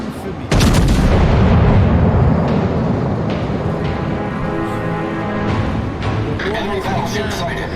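Naval gunfire in a video game sea battle against an enemy destroyer: a loud booming salvo opens, then heavy rumbling blasts and sharper reports follow under a voice.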